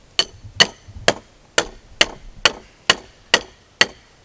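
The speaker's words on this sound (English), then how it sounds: "Now just start hammering lightly until it starts going in." Sharp hammer blows drive a bolt through a board, about ten evenly spaced strikes ringing close and loud, each with a metallic clang and brief decay.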